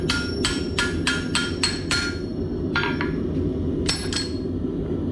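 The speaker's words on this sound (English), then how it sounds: "I place it over the hardy hole and just drive the chisel in and all the way through" Hammer driving a chisel through metal over an anvil's hardy hole while forging a bottle opener, a series of sharp ringing strikes, six quick blows then a few more spaced apart, close over a steady background hum.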